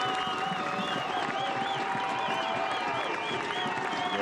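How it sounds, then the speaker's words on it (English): Football stadium crowd at the end of a professional match, sustained applause and crowd noise with shrill referee-style whistles warbling repeatedly over the top, fairly distant and continuous. "You can hear the whistles and the applause and all the hugs on the bench there"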